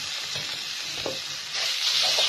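Soft, steady sizzling of ginger and garlic paste frying in a pan, with faint stirring scrapes, close and fairly quiet, growing a little louder near the end.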